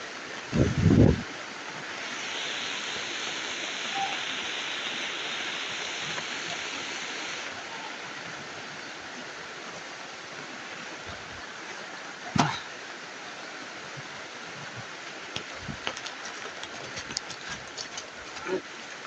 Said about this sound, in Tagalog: sobrang lakas talaga ng ulan mga tol